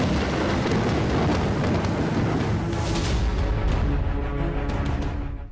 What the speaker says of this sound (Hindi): मुंबई में मूसलाधार बरसात शुरू हो चुकी है।